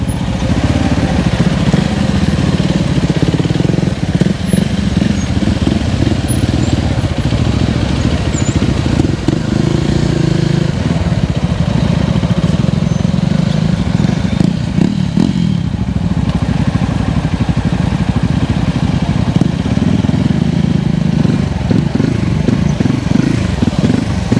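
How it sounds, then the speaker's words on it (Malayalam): Loud, continuous motorcycle engine held at high revs, rising and falling as it pushes through rain floodwater on the NH 66 highway between Payyoli and Nandi, with splashing and clatter throughout. "ബൈക്കിലൊക്കെ പോകുമ്പോൾ ഇങ്ങനെ റൈസ് ചെയ്ത് റൈസ് ചെയ്ത് പോയില്ലെങ്കിൽ നമ്മൾ വെള്ളത്തിനകത്താവും"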